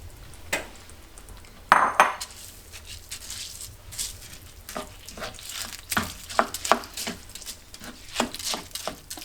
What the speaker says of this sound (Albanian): Përzimi derisa të përzihet orizi mirë.